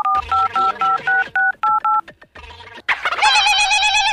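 A phone keypad beeps out a rapid run of about eight dialing tones, followed by short clicks and then a ringing tone, all loud and close.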